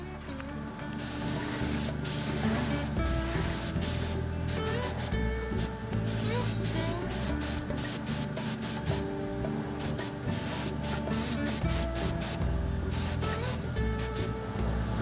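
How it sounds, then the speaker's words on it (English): An airbrush sprays railroad tie brown paint over a model diesel locomotive in a loud, steady hiss, broken by short pauses between passes. "I'll just probably put 1 or 2 coats of it on, just a quick spray on the entire model."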